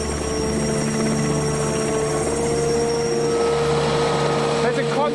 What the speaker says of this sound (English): There's a constant cycle of helicopters coming in here and landing and refueling.